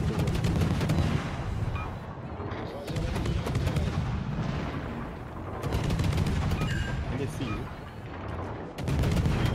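Dense, sustained video-game gunfire with heavy booms, rapid automatic bursts and fusillade-like volleys, loud and continuous with brief lulls, while a voice talks over it.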